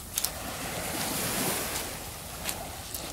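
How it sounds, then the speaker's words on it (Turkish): Calm sea waves wash gently onto a Marmara beach at Şarköy in October, a soft steady surf hiss with faint wind noise and a few light splashes. "Deniz sakin."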